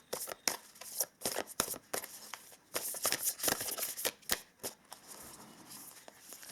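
Oracle cards being shuffled and handled up close, a quick run of soft slaps and riffles coming in irregular bursts, fairly faint.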